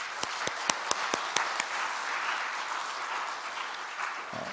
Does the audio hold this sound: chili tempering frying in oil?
no